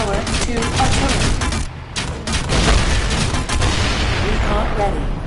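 Artillery fire in the VR strategy game League of War VR: dense, loud bursts of booming shots and rapid impacts, with a short dip in the middle before the barrage resumes.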